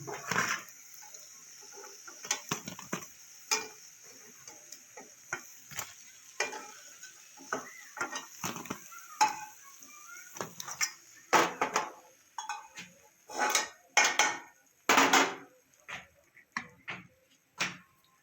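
Masoor dal fritters lifted from hot oil in a pan: a series of sharp metallic scrapes and clinks of a spatula against the pan over a faint sizzle, irregular and close.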